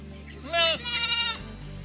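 Goats bleat in a close, loud burst, one wavering cry held for close to a second over a steady low farm hum, with no talk.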